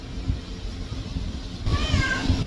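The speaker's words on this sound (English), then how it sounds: "I got a cat in the background" A shop cat meows in the background, a short rising cry near the end over low rumbling room noise.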